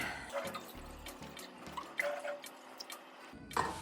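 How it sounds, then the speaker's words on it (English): Water poured into a GrowlerWerks nitro cold brew uKeg: soft, close splashing and trickling with intermittent drips and small clinks, fairly quiet and uneven, without any talking. "Now I'm gonna add in a little bit more water."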